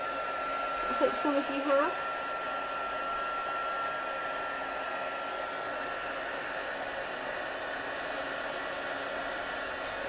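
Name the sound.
craft heat tool blowing while heating a card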